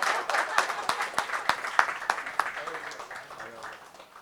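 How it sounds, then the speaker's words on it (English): Steady audience applause, many hands clapping in a dense crackle that swells briefly then gradually fades. "A round of applause for this guy."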